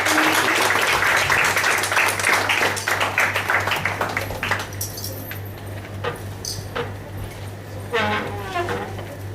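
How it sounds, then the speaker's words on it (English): Audience applause at an installation ceremony, a dense burst of clapping that starts loud and full, then thins out and fades over several seconds, over a steady low hum with some voices near the end. "Please welcome him with a thunderous round of applause."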